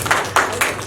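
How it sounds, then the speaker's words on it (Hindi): Audience applause for Masoom ji at the Mahatma Gandhi Ratna Award 2021 ceremony: a brief run of rhythmic clap bursts, fairly steady and moderately loud, with no talk over it. "मासूम जी के लिए भी ताली बजाई"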